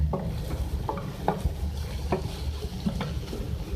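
Chicken filling mixed with chili sauce being stirred in a pan, a low sizzle under repeated scraping strokes of a spoon at an uneven rhythm, close by and without talk.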